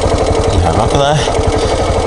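Suzuki SW-1 motorcycle engine idling roughly with a steady popping, chugging rhythm, loud and close, with voices talking over it.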